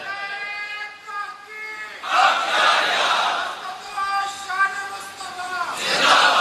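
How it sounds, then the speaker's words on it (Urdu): A large crowd at a religious gathering chants a slogan in loud, swelling waves of massed voices after a lone voice leads, the bursts of shouting rising and falling at close range. "آج تو ٹھنڈا ٹھنڈا نعرہ نہ لگائیں، میں نے اپیل کی تھی کہ نعرہ تحقیق بھی لگایا کریں۔"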